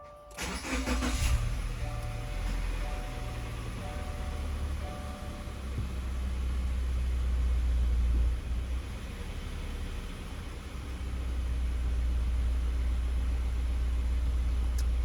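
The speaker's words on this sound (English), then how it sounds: "I've turned the car off. Let's start it up again" A car engine cranks and catches near the start, then settles into a steady low idle rumble that continues for over ten seconds, close and fairly even, with no one talking.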